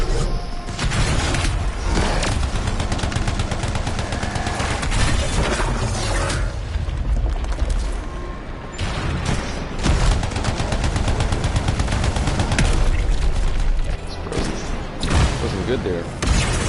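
Dense, continuous gunfire fills a firefight against an enemy in the video game Anthem, rapid loud bursts with booming hits running almost unbroken, mixed with game noise.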